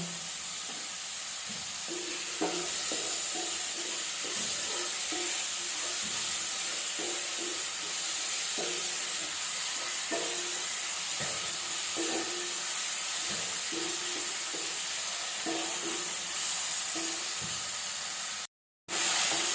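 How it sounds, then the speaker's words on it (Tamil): Tomatoes and onions sauté in a pan with salt, giving a steady close sizzle and hiss broken by intermittent stirring clinks and scrapes, with a brief silent gap near the end. "தக்காளி வெங்காயம் நல்லா வதங்கிடுச்சு"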